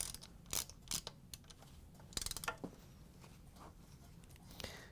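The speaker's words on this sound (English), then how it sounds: "we can grab our ratchet with the large Phillips driver and tighten them down." A ratchet fitted with a large Phillips driver tightens screws on a KitchenAid mixer speed control lever replacement, giving scattered clicks and brief ratcheting bursts, faint and close, with short pauses between.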